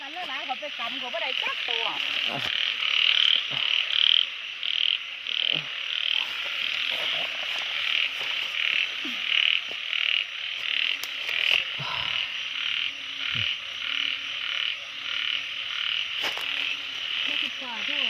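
Frogs and toads croak in a rain-soaked rice field: a dense, steady chorus of trilling calls runs throughout, with deeper individual croaks popping up near and far and occasional voices of people in the field.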